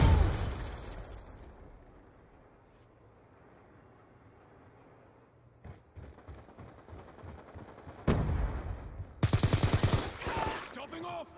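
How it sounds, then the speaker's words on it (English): A grenade explodes amid gunfire in a multiplayer shooter team deathmatch: a dull boom up front, quiet stretches, then loud bursts of rapid automatic fire near the end. "Grenade!"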